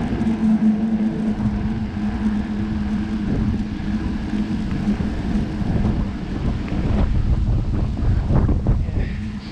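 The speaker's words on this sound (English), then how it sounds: "Gust of wind kind of between the ridges here, so really get the wind." Heavy, constant low rumbling buffets of wind batter the microphone between ridges on a chilly November ride, surging and easing in gusts throughout.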